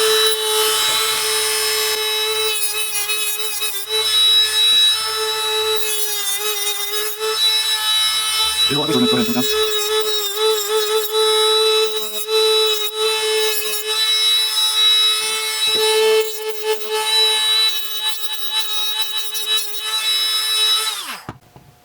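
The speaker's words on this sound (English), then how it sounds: "Turn your Dremel up." Dremel rotary tool cutting through a tricopter frame, a high sustained whine with grinding rasps that rise and dip as the bit bites the material, loud and close for about twenty seconds before spinning down.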